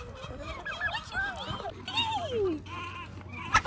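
Chicks cluck and chirp in short, wavering calls close by, with a person speaking softly over them.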